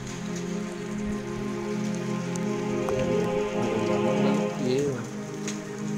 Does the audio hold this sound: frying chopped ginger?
no